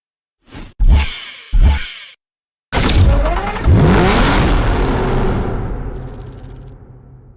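A BMW M6 convertible with a V10 engine, revved in two short sharp blips, then a long loud rev climbing and slowly fading away, heard close and alone.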